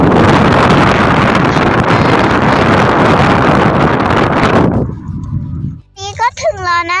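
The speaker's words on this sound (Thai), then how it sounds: "ตอนนี้เหมือนฝนกำลังจะลงนะคะคือลมเย็นมากเลยค่ะพอเราเปิดหน้าต่างออกมาเนี่ยโอ้โห" Cool wind before rain rushes loudly through an open window, a dense roar that cuts off abruptly, followed by a brief pause and a voice speaking close by.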